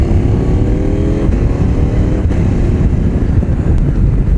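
A KTM Duke 890 motorcycle engine drones steadily while riding, a loud low rumble mixed with heavy wind buffeting, holding a fairly constant pitch throughout.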